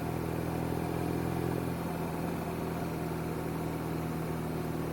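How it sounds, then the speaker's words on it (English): A BMW R nineT flat-twin motorcycle engine runs at a steady low rumble, fairly quiet and continuous, with no voices over it. "it's such a lovely bike to ride. It has that torque kind of lean to the right when it's got a longitudinal crank because it's a flat twin"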